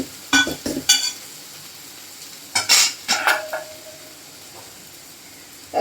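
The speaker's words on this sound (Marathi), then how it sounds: "याला फक्त परतायचंच आहे." Kurdai vegetable being stir-fried in a pan, with a utensil scraping and stirring in a few quick bursts over a soft sizzle, close and alone.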